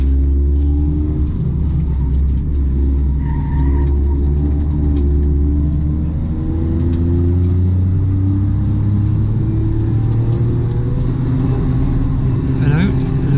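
A rally car at a Teesside circuit rumbles and revs steadily through the tighter section and over a chicane, engine drone holding constant and loud while a commentator talks over it throughout.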